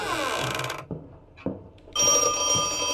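A telephone in the Project Nightmares video game rings with a bright metallic bell trill. It stops for about a second, broken only by a couple of soft thumps, then starts again, loud and steady.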